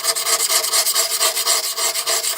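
Steady rhythmic rasping strokes of a fine file polishing the bevel of a blade, each pass a bright scraping rub repeating about every fifth of a second, close and alone with no talk.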